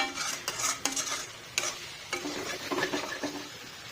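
Potato and chicken roast in a pan over a low flame with a soft sizzle, while a spoon stirs and scrapes in repeated, uneven strokes close by.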